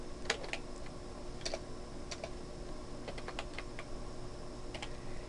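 Computer keyboard typing while text is entered in Adobe Photoshop, scattered light clicks in short irregular bursts over steady low background hum, close and fairly quiet.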